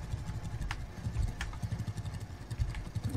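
A tractor engine chugs steadily while cultivating a field in Farmers Dynasty, with a low, pulsing mechanical throb, light rattling and occasional clanks, moderately quiet with no talking.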